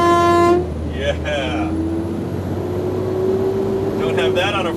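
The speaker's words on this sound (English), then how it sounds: "you do have the standard truck horn, which is right here" The standard truck horn on a 2006 Freightliner Sport Chassis pickup gives one loud, deep, brassy blast that cuts off after about half a second, followed by people talking inside the cab.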